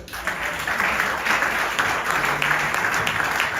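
A church congregation applauds the Lord during a sermon, with sustained, dense clapping from many hands that holds steady and fairly loud throughout.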